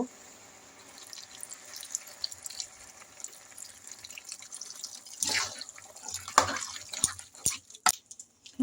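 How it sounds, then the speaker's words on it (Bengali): Water from a tap runs and splashes, then is poured into a pan of cooking green jackfruit curry, building to louder splashes and drips near the end, with no talk. "একটু জল দিয়ে দিব।"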